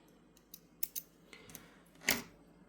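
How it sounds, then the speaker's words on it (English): Scissors snip through yarn on a beaded netted necklace, a few faint, quiet clicks followed by one louder, crisp cut near the end, close by in a quiet room. "cut off your yarn"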